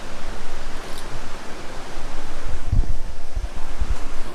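Water rushes steadily at the Dudua waterfall, a broad, constant roar with no talk over it.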